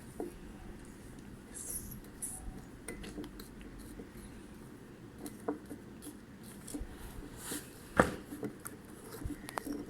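A spoon clinks and scrapes inside a bowl while stirring a homemade slime mixture of household ingredients, with quiet irregular taps and one sharper knock.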